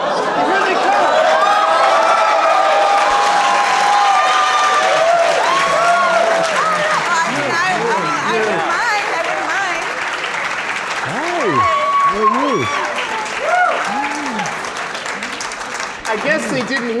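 Comedy-show audience applauding and whooping for Tommy Chong, dense sustained clapping with cheers and scattered chatter, loud and close, while voices talk and laugh over it.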